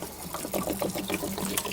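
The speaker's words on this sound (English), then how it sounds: "As you can see, the water's coming out." Water drains from a valve on a Sabre fifth wheel trailer during winterizing, a close, faint gurgling trickle with small irregular splashes and bubbling pulses.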